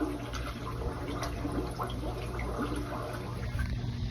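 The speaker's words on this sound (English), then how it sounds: "it's bubbling, it's moving the water" Aerobic septic tank at a house, with steady bubbling and churning water running continuously at moderate level, a low constant hum beneath the gurgle and no voices.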